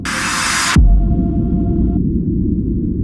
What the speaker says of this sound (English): Impact sound.